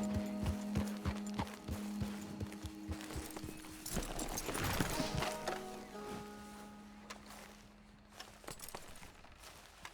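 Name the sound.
horse hooves in Red Dead Redemption 2 video game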